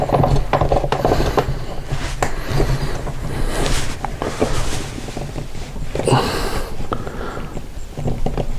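Threaded PVC fitting being screwed by hand onto a drink cooler mash tun, giving steady close rubbing and ratcheting plastic clicks that run continuously throughout.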